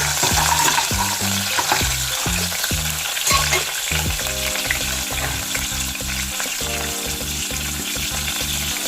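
Shallots sizzle and crackle in hot coconut oil for bitter gourd theeyal, with a steady frying hiss and rhythmic scraping of a spatula stirring the pan, close by.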